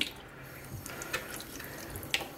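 Tap water running while a dishwasher filter is rinsed under it, a faint steady trickle with a few soft drips and splashes, heard alone without talk.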